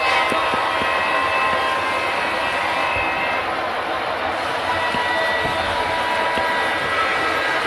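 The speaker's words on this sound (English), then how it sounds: "Train's coming around." A model train runs around the Granite Gorge and Northern layout, giving off a steady, hissing mechanical hum at moderate level with faint clicks and no pauses.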